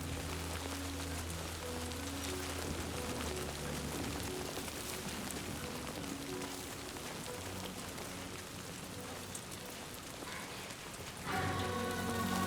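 Timefall rain in Death Stranding 2 pattering steadily and densely over a surface, with soft music tones beneath and a brief brighter shift near the end.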